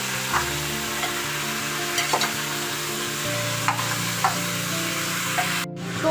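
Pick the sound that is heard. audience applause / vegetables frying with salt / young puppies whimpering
vegetables frying with salt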